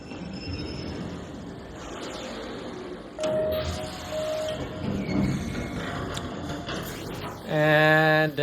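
A subway train in the ARC Raiders video game rumbles and rattles for several seconds, ending in a loud, near, tonal screech or horn.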